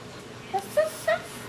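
A young child imitates a dog with three short yipping, whimper-like sounds spaced across a moment, close and fairly soft in a quiet room.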